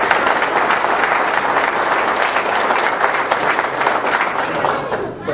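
Sustained applause from an indoor crowd at a Medford city council campaign kickoff, dense and steady clapping at full volume throughout, fading slightly at the very end.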